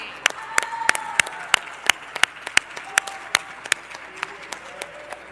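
Applause in a Mexican legislative chamber after a decree is approved, with sharp, close individual claps standing out over a steady wash of clapping from a crowd of lawmakers, while a few voices speak underneath.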